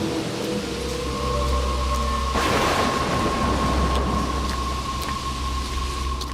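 Steady rain falls over an empty village in a cartoon scene, a dense hiss throughout, broken by one loud crack of thunder partway through that rolls on into the downpour.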